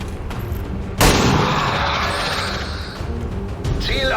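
A single loud gunshot rings out in XCOM 2, a sharp broadband blast followed by a sustained rumbling tail that carries under game ambience to the end.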